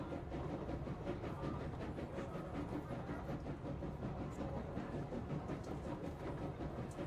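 Steady rolling rumble and rhythmic rail clatter of a passenger train ride in the video game Control, a continuous mid-level wash of noise with no talk over it.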